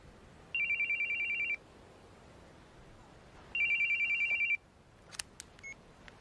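A telephone rings twice in a quiet room in a horror film, each electronic trill lasting about a second with a pause between, followed by faint clicks as the receiver is picked up.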